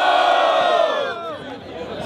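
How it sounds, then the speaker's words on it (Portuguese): Crowd roaring and cheering at a street freestyle rap battle in São Gonçalo, a loud, sustained wall of voices that swells at first and then slowly fades. "Barulho que gostou da rima do freestyle, MC Xamã."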